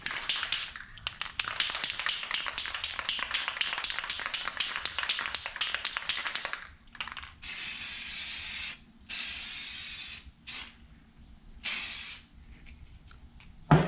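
A second coat of spray paint going on: a long, steady hiss of spraying, then several shorter separate bursts broken by brief pauses, heard close.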